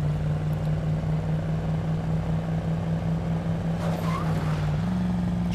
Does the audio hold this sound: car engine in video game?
yes